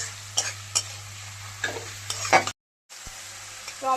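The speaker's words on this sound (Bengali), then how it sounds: "টমেটোটা ভালো করে কষিয়ে নিয়েছি" Tomatoes sauté in a pan with salt, a steady sizzle broken by a few scrapes of a stirring spoon, then a brief silence before the frying picks up again, close up with no voices.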